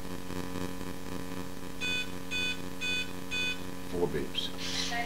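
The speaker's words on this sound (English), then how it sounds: "Four beeps." An electronic speed control beeps exactly four times in steady, evenly spaced bursts during setup of an Align E1 Plus RC helicopter build, over a constant background hum, followed by a brief rustle and a hiss at the end.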